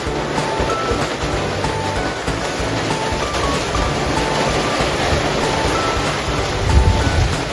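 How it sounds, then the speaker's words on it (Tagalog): Heavy rain pours down beside a mountain stream during a typhoon, a dense, steady broadband roar that stays loud and unbroken throughout with no voices. "Eto, naririnig nyo, biglang lumakas ang ulan, sobrang lakas ng ulan."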